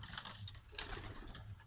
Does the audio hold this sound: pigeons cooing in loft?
yes